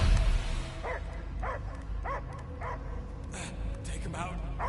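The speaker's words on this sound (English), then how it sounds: "I hear only barking." A dog in the video game Guardians of the Galaxy gives a series of about six short, evenly spaced barks, moderately close, over a low background rumble and music.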